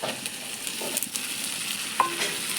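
Fried onion being stirred with ginger-garlic paste in a pan, a steady close sizzle with a few sharper scraping clicks of the spoon, no voices.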